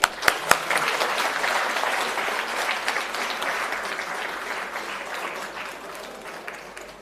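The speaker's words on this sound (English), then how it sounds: "Gentlemen, round of applause, please." An audience at a college silver jubilee celebration gives a round of applause, starting with a few sharp claps and then filling into dense, steady clapping that slowly fades toward the end.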